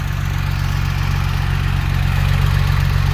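A Porsche 911 engine idles steadily in a workspace, a low even rumble with a constant throb and no revving, close by and alone for a few seconds.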